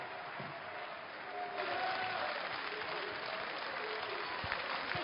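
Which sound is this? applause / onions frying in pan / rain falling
applause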